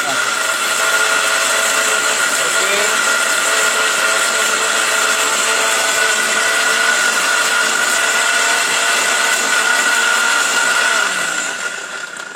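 A blender's motor whirs loudly and steadily for several seconds, grinding chilies without a break before winding down at the very end.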